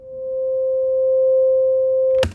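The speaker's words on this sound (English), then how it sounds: "It's literally just a sine wave with an envelope here, but then I put delay on it with kind of a big sound. And completely wet." A pure sine-wave synth tone with an envelope runs fully wet through a big delay, one steady clear note sustained for about two seconds before cutting off abruptly with a short noisy click.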